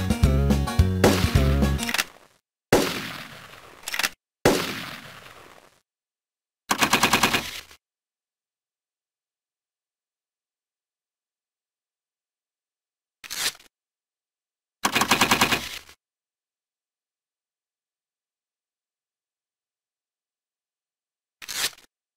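Arcade hunting game gunfire from Trophy Hunting: Bear & Moose comes in loud bursts of rapid shots, then isolated single blasts separated by long silences.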